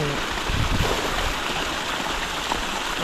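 Water released from a rural fish pond during draining pours and rushes in a steady, dense flow that fills the clip from start to end, close and continuous with no clear pauses.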